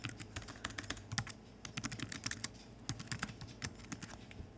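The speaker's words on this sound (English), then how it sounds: "let's just get something typed up here" Typing on a computer keyboard, steady irregular clicks of keys pressed at a quick pace, close and clear with no talk over it.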